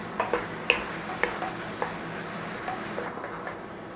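Beef mince and vegetables cooking in a pan for a mince pie, a soft steady simmering sizzle broken by light spoon taps and scrapes at a slow rhythm, near and quiet.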